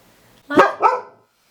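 A pet dog lets out two quick, loud gruff barks with a throaty growling edge at close range indoors, then falls silent.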